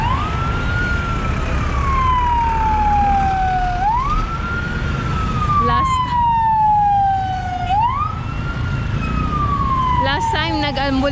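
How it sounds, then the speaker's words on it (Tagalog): An ambulance siren stuck in traffic in Nepal wails, sweeping up and down in repeated cycles, loud and close, over steady traffic rumble with brief clatters. "May ambulansya"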